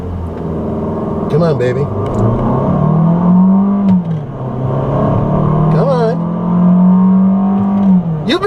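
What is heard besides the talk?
2014 Fiat 500L accelerating 0-60 mph, dual clutch transmission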